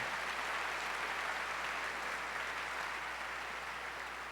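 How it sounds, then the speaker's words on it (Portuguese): Sustained applause from a church congregation during a Catholic sermon, a dense even wash of clapping that stays steady and loud for the whole stretch with no voices over it. "Pode aplaudir isso? Pode aplaudir."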